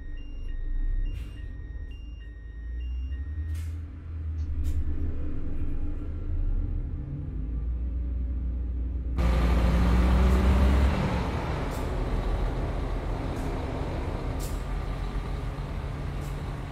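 A Paradiso G7 1800 DD double-decker bus drives in a simulation game with a steady engine rumble, small warning beeps, then a louder shift in the engine and road noise midway.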